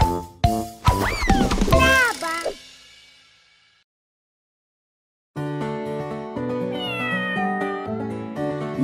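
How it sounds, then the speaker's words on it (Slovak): A cat meows several times in quick, expressive cries, near and loud, followed by a pause and then bright musical playing from a Slovak children's song. "Naša mačička Linda, tá sa teda má, stále sa len hraje"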